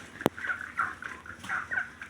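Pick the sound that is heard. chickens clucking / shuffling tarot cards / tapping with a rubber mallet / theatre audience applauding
chickens clucking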